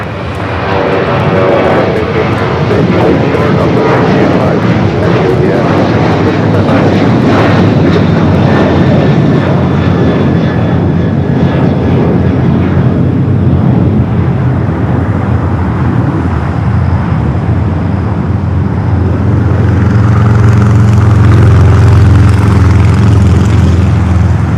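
A loud, continuous roar of an aircraft taking off down runway 25 at LAX, a broad engine rumble that stays close and steady throughout and swells slightly toward the end.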